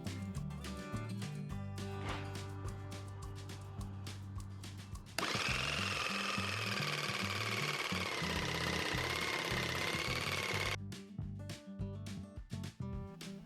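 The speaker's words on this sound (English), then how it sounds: "I need to cut out most of the material using jigsaw." A jigsaw cuts through wood for a truck bed drawer, its rapid buzzing blade running loud and close for about five seconds between stretches of rhythmic clattering workshop noise, with no talking.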